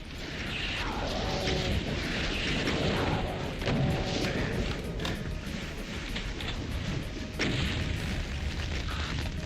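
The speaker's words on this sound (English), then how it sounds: "The fact that there are two cyber demons makes this incredibly difficult, because they're not in the same position and I have to dodge 4 rockets." Rockets from Cyberdemons explode in the game Doom 2, a dense, loud stream of booming blasts and gunfire-like bursts that barely lets up, with the heavy thuds coming in quick succession.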